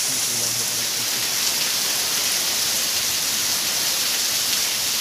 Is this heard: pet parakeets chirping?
no